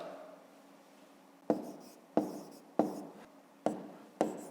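Pen strokes across paper during a fifth-grade math exercise, a series of five or six short, sharp scratching bursts at a steady pace, close and quiet.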